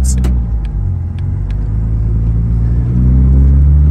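A 1950 Dodge Coronet engine rumbles steadily after a gear shift, its low growl swelling louder toward the end as the car accelerates. Brief faint clicks sit above the continuous drone, with no talk.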